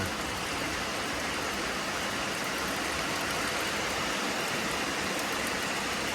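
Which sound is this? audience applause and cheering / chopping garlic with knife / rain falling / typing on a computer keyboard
rain falling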